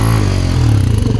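A motorcycle engine revs in one brief, loud, close burst, with a rough mechanical rumble and no voices.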